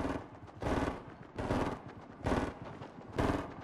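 Bursts of rapid gunfire in the video game Fortnite, four loud clusters of shots at roughly even intervals with softer rattling between them.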